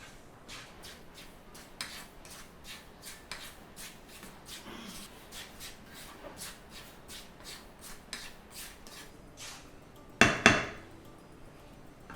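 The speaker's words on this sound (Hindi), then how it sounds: "गर्माहट जो कढ़ाई की है उसमें भूनते रहिए" Multigrain flour and dry fruit mixture for pinni is roasted in a wok off the flame, with soft repeated scraping and shuffling strokes of a spatula, quiet and close, ending in two louder metallic clanks.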